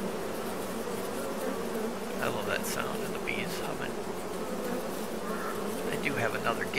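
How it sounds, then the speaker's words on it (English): Bees hum in a beekeeping area of Farming Simulator 22, a steady buzzing drone at moderate level throughout, with a few brief higher chirps layered on top. "I love that sound of the bees humming."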